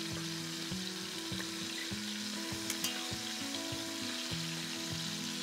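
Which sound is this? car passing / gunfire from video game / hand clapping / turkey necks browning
turkey necks browning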